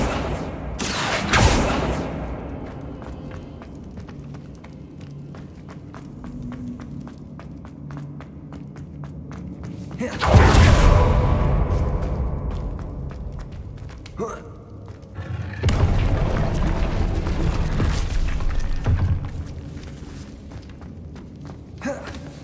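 Depulso force spells are cast in Hogwarts Legacy, a few loud whooshing blasts with thuds and footsteps between them, a voice speaking over the action.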